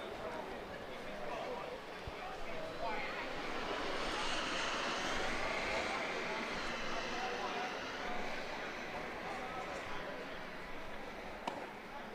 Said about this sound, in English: There's the jet landing here.